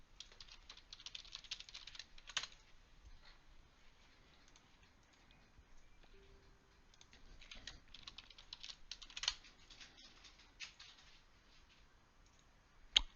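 Someone types on a computer keyboard in quick irregular bursts of light clicking keys, with brief pauses and a couple of louder key taps, close and quiet.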